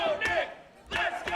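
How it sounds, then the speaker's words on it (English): Wrestling crowd at an independent show rallies behind Nick Griffin with loud shouts and cheers in two bursts separated by a brief lull, under a commentator's voice. "Crowd trying to get behind Nick Griffin."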